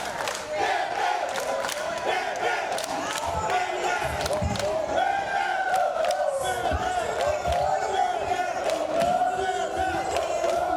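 A women's wrestling crowd roars and cheers behind a wrestler, with loud sustained shouting, whoops and scattered sharp slams or stomps, and a ring announcer's voice rising through the din.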